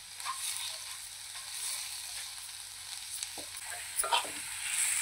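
A Maharashtrian egg curry masala with lightly fried eggs is stirred in a pan over low heat, a quiet, steady sizzle with a few soft scrapes and clinks near the end, no voices.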